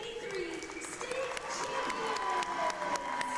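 A basketball gym crowd honoring a 1983 state championship team claps and cheers steadily, a broad wash of applause with scattered shouts while an announcer's amplified voice carries over it.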